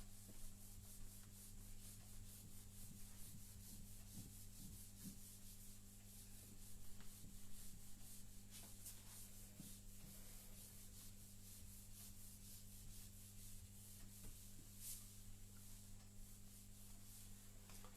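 A board is rubbed clean with steady, faint, continuous scrubbing strokes over a constant low electrical hum, with no voices.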